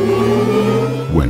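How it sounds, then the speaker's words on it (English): Synthesized electric car sound for the 2012 Audi R8 e-tron, triggered by pressing the gas pedal: layered sustained tones hum steadily, then a rising sweep swells near the end, loud and alone. "These are elements of the Audi R8 e-tron sound,"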